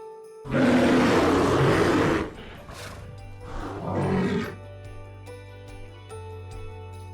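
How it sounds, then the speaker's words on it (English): A bear lets out a long, harsh roar, then a shorter second growl, fairly close, over a faint steady low hum. "Bear."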